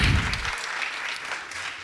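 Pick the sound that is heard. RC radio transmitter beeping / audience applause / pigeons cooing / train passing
audience applause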